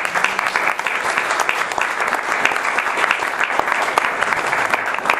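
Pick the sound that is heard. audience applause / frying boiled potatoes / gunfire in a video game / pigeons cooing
audience applause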